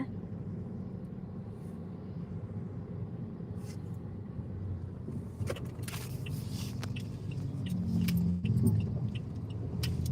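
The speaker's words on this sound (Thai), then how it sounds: "รถจะเยอะนิดนึงนะคะ" Road traffic at a red light around six in the evening, a steady low rumble of idling and passing vehicles heard from inside a stopped car, with a louder engine swell and scattered clicks midway.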